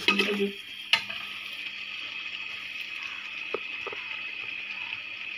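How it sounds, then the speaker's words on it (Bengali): Spiced meat paste and green chilies being sautéed for homemade biryani, with a steady soft sizzle and a few sharp scrapes and clinks of a spoon against the pot near the start. "আরও কষাবে, যত কষাবে তত মজা হবে।"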